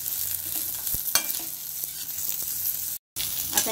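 Roasted coconut, garlic, ginger pieces and green chilli are sautéed in a pan for a dried prawn curry masala, a close sizzle broken by scraping spatula strokes and sharp clicks, with a momentary cut to silence.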